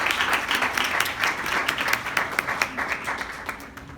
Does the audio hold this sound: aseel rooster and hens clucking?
no